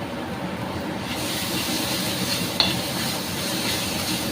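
Papaya with garlic paste is sautéed in a pan, a steady close hiss and sizzle with stirring scrapes and a brief sharp clink partway through.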